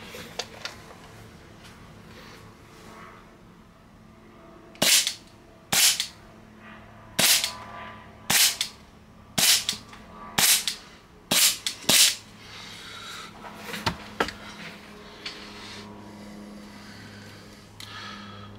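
A Hi-Capa airsoft pistol fires about ten sharp, loud single shots at irregular intervals over a quiet background, with a couple of fainter clicks at the end.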